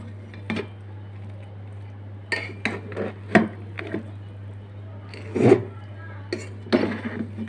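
Chicken biryani being stirred and turned over in a cooking pot, heard as scattered scraping and clinking knocks of a spoon against metal, with a few sharper clanks over a steady low hum.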